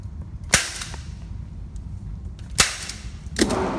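Three sharp handgun reports from a WWII Japanese Nambu Type 14 pistol at an outdoor range, spaced irregularly over a few seconds, each a loud crack with a short decaying tail over faint background noise.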